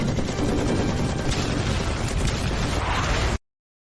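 Dense, continuous gunfire roars loudly and steadily during a battle in an animated mecha series, then cuts off abruptly after about three seconds.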